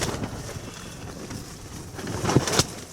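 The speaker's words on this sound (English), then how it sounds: "It's got quite blustery up here." Gusty wind buffets the microphone in low rumbling bursts, with a couple of sharper knocks near the end.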